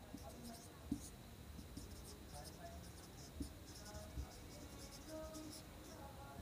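Soft scratching of a pen writing by hand on paper, faint and continuous with small taps as strokes start, under a quiet background hum.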